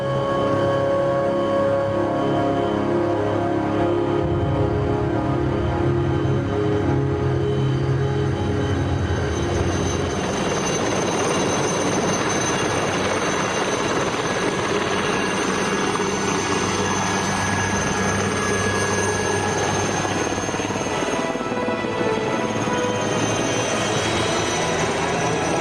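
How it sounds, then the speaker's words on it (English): Cheetah helicopter of the Indian Air Force flying over a glacier battlefield, a loud continuous rotor and turbine drone with pulsing blade rhythm and shifting pitch, close and dominant throughout, no voices. "This is the Cheetah helicopter, the workhorse of the Indian Air Force"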